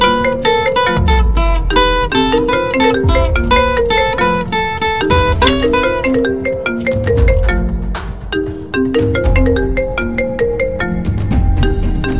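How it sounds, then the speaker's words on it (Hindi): A melodic phone ringtone plays continuously and loudly, a repeating tune of bright tones over a steady beat, with no voices. "चलो सलमान खान को फोन करते हैं"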